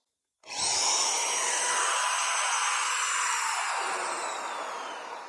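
A CAT hammer drill, drawing up to 500 watts at startup, starts abruptly and runs at a steady, high-pitched whine, loud and close, with its pitch shifting slightly as it settles.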